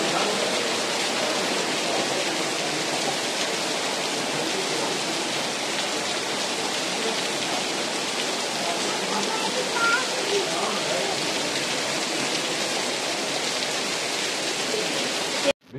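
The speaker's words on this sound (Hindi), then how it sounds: "और इतनी बारिश हो रही है" Heavy rain pours down steadily near a beach and temple during a family summer trip, a loud, even hiss that runs unbroken for the whole stretch.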